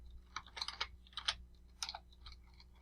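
Keys clatter on a computer keyboard in short, uneven bursts of quiet clicks with brief gaps between them, close and soft, with no voices.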